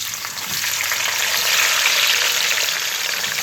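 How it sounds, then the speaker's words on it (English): Onion fries in a pan, giving a steady, close, fairly loud sizzle that stays constant and unbroken from start to finish, with no talking. "I'm putting the onion in right now."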